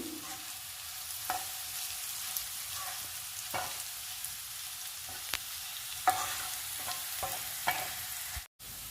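Beetroot curry frying in a pan, a soft steady sizzle with occasional scraping stirs of a spoon against the pan, fairly quiet and close, with no talking.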